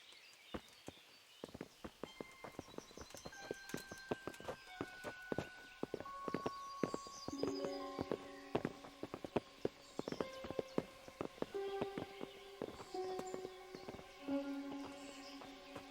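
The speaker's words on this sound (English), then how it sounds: "Bring the horses." Several horses clip-clopping at a steady walk-to-trot pace in Kingdom Come: Deliverance, hooves sounding close and clear alongside sustained musical tones and ambient game sound.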